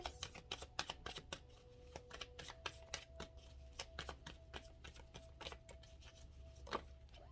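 Tarot cards are shuffled and handled in a quiet room: a rapid, uneven run of crisp paper flicks and slaps, close and fairly soft, with brief pauses between bursts.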